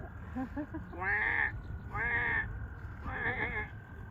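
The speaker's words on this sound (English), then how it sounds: "the Fowler's toad, that sounds something like a distressed sheep" A Fowler's toad gives three nasal, bleating calls like a distressed sheep, each about half a second long, repeating at roughly one-second intervals over a low background hum.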